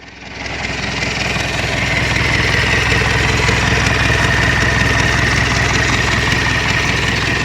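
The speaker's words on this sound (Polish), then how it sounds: "Ursus 1014 ze sportowym wydechem" Ursus 1014 tractor engine running with its exhaust silencer broken off, a loud, steady, raw droning rumble that rises quickly at the start and holds constant throughout, with no talking.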